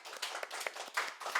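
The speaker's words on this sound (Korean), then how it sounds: "박수 한번 보내주십시오." Audience at a Korean community group meeting clapping together, a short burst of dense, steady applause with a few louder claps standing out, no talk over it.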